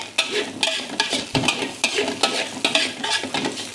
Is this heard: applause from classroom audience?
no